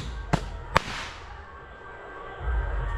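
Two sharp firecracker bangs in quick succession, close by, outdoors on a Ganesh immersion day in the Konkan, followed by a low rumbling background that swells toward the end.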